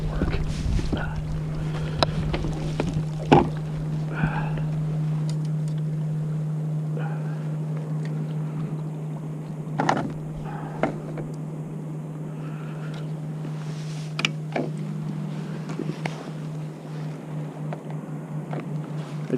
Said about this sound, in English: I'm just gonna get the motor going, just get us up there.